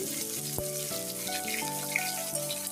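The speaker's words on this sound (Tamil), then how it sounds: "இதோட வெட்டி வச்சிருக்கிற தக்காளி பழம், வெங்காயம், பச்சை மிளகாயை சேர்த்து வதக்குறேன்." Chopped tomato, onion and green chili sauté in hot oil, a brief, gentle sizzle running under steady tonal background sounds, with no speech.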